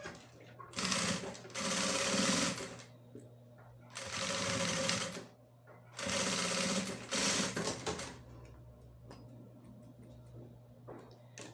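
A sewing machine stitches a shoulder bag in three loud, rapid bursts of clattering stitches, each a couple of seconds long and split by short pauses. Quieter handling noise follows.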